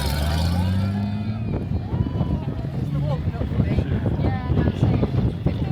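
Vehicle engine rumbling as it drives down sand dunes in Vietnam, a low steady drone under heavy wind buffeting on the microphone, with a voice talking over it.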